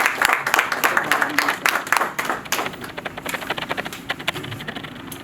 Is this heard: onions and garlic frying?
no